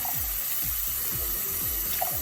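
Soapy dishes rinsed under a running kitchen sink tap: a steady, fairly quiet stream of water splashes continuously, with faint rhythmic low thumps beneath and no talking.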